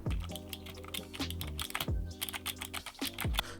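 Rapid, uneven clicking of typing on a cheap semi-mechanical keyboard with Cherry-style keys and RGB backlighting, close and crisp, with a few heavier thocks like the space bar among the keystrokes.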